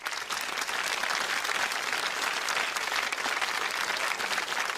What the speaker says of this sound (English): we applauded him now, but we have to do it again